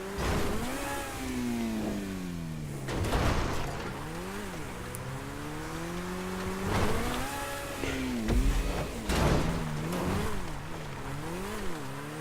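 An Overflod Entity car drives off-road on dirt, its engine revving up and dropping through repeated gear changes, a steady mid-pitched whine rising and falling close by for several seconds.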